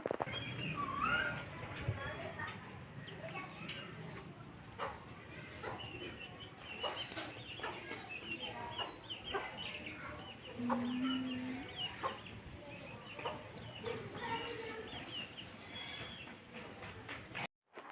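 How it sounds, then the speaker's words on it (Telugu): Chickens and other birds cluck and call outside a house in the morning, a steady busy chorus of clucks and chirps with scattered sharper calls throughout, moderately close with background noise. "విన్నారు కదా పక్షుల శబ్దం ఎలా ఉందో"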